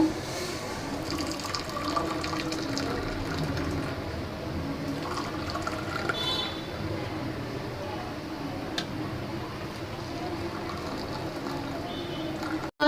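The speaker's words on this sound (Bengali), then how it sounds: "এখন চাটা ঢেলে নেব" Freshly made tea is poured into three sugared cups in a home kitchen, producing a long, continuous trickling pour of liquid heard up close, with faint background noise.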